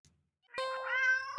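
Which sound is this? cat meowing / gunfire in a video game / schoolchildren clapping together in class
cat meowing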